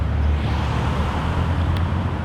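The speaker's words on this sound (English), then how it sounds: "Oh, the cars are coming." Passing cars on a nearby road make a continuous broad roar of traffic noise, steady and moderately loud with no voices.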